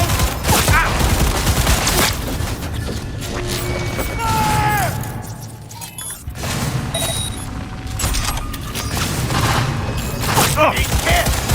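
Rapid automatic gunfire in the video game Cyberpunk 2077, loud bursts of shots and booms filling the scene almost continuously, with brief shouted voices between volleys.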